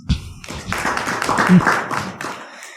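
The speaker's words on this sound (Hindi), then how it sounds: "ताली बजाओ इनके लिए" An audience at a devotional talk clapping briefly, a short patter of claps starting with a sharp tap and fading out after a couple of seconds.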